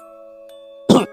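A pocong ghost coughs in a horror tale, one short rough burst close up after a quiet stretch with a faint steady hum and a small chime-like tick.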